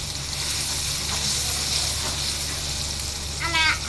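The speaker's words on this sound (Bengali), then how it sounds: "আমরা টমেটোটাকে একটু ভেজে নিব।" Tomatoes frying in a pan for chow mein, a steady close sizzle and hiss, with a brief voice near the end.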